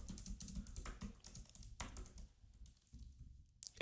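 Rapid keystrokes on a computer keyboard, typing out a short entry in an author biography field, clattering close and steady for a few seconds, then thinning to a few scattered taps.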